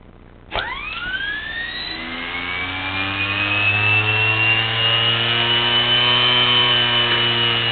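An electric cycle motor spins up under torque with a rising whine that climbs in pitch after a sharp start, then settles into a loud, steady, close hum.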